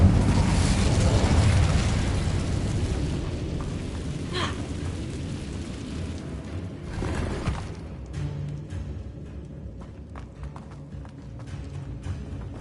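An Incendio fire spell is cast in the Hogwarts Legacy game, a loud roaring burst of flame and rumble that crackles and fades over several seconds into lighter patter and scattered clicks.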